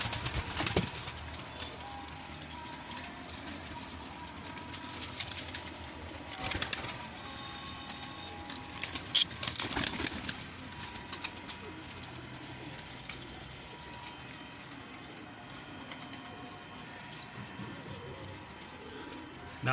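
Pigeons or doves let out after a week indoors, cooing and calling near and far over outdoor ambience, with bursts of wing flapping as they take off and settle.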